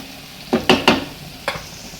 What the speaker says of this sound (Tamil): நல்லா மிக்ஸ் பண்ணி ஒரு 3 மினிட்ஸ் அப்படியே நல்லா குக் பண்ணுங்க